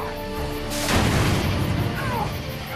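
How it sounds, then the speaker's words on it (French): A gunpowder flask ignited by a spark or ember explodes in a sudden, loud, close blast, followed by a rough, crackling roar that slowly fades over a steady tonal drone. "L'explosion manque de lui arracher une jambe."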